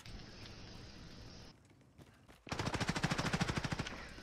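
Gunfire in Call of Duty: Modern Warfare Warzone, a loud rapid burst of automatic fire after some quieter game noise, rattling steadily for nearly two seconds.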